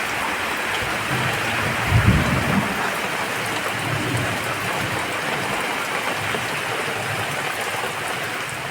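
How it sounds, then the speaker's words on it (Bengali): Heavy rain pours in a dense, steady hiss, with a low thunder rumble swelling near the start and fading out while the downpour continues alone. "খুব বৃষ্টি হচ্ছে"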